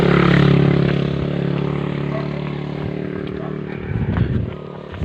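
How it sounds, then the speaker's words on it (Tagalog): A motorcycle engine running close by with a steady droning hum that slowly fades, with a brief burst of rattling near the end. "Motor."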